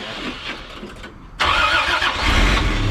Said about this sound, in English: Hey, the starter worked.